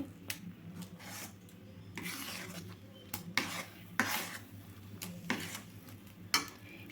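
A coconut milk sweet mixture is stirred in a pan as it thickens, giving close, quiet rasping scrapes in an irregular rhythm with a low steady hum underneath and no voices.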